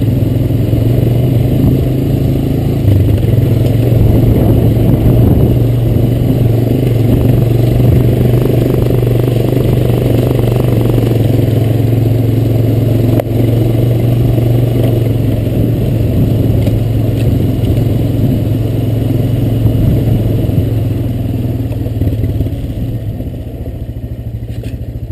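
Honda Recon ES ATV engine pulling up through its gears on a farm ride, a loud, close, steady mid-pitched drone with mechanical clatter and small rises in revs, running alone throughout.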